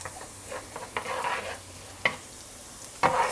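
Minced garlic sizzling and frying in a pan for kimchi fried rice while a utensil stirs it, with soft continuous sizzle and a few sharp scraping clacks against the pan, no talking.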